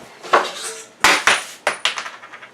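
A bowl being taken out and handled in a kitchen, producing loud, close clatters and knocks of dishware in a quick irregular series.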